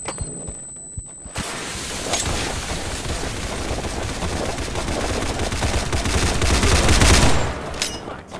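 Sustained automatic gunfire and repeated shots in a military shooter video game, loud and dense for several seconds, building toward the end before cutting off, with a few isolated sharp reports at the start.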